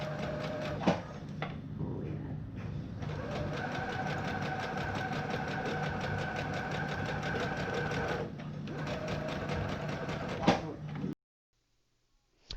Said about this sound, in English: we've got the ribbon folded in half, and we're going to give this a sew here